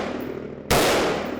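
A single sharp gunshot cracks out loud and close, its blast ringing and decaying over a steady background hum.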